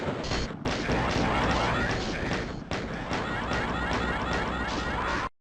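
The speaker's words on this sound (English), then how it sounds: "he's shooting at me through the damn thing" Enemy gunfire in Doom's TNT: Evilution, on the Crater map, rattles out as dense, harsh bursts of shots that nearly fill the clip, with one brief break early and an abrupt cutoff at the end.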